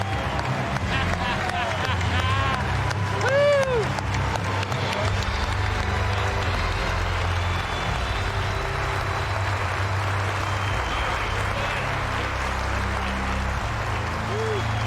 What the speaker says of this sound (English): Round of applause going again for the 2011 class of enshrinees.